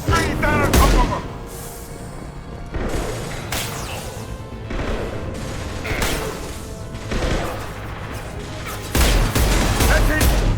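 Heavy gunfire and crashing impacts in the Mass Effect 2 video game as a loose fuel tank is shot down onto enemies, loud dense bursts with booms near the start and end, under raised voices.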